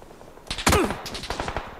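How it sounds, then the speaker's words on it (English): Gunfire in the battle royale game PUBG: a quick burst of loud, sharp automatic shots followed by a rapid string of further cracks, close and dense, with no talking. "I'm getting shot at"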